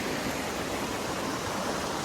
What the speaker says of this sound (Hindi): जब जाता है पानी बह के नीचे।